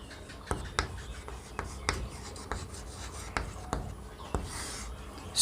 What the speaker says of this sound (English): Now let me write the structure for this tense. Let me write it here.